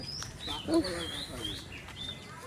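Faint bird chirps and calls rise over a soft outdoor background in a mango orchard in Rajshahi, with a voice murmuring nearby.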